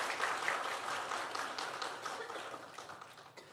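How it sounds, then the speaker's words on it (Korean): Congregation in a church sanctuary clapping together to welcome a newcomer during a Sunday service, a dense steady patter of many hands that slowly thins toward the end, with no voices over it. "박수로 격려해 드리겠습니다"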